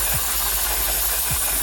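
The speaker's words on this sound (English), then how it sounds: "a little WD-40" A can of WD-40 aerosol lubricant sprays onto a drill-press machine part, a loud, close, continuous hiss lasting the whole moment.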